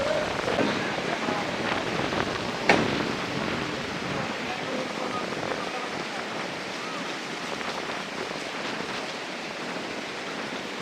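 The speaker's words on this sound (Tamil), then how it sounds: "நல்லா காற்றடிக்குது." Strong wind rushes steadily through trees on Nainativu island in a broad, hissing roar with gusty fluctuations and one brief knock, no voices present.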